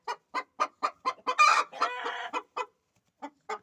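A hen clucks in a steady run of short, close calls, swelling briefly into a louder drawn-out squawk before a few final clucks after a pause.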